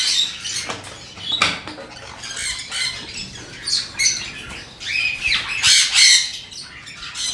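Newly hatched chicks of ornamental birds giving high, thin squawks and cheeps in irregular clusters, close by, with light scratching and pattering.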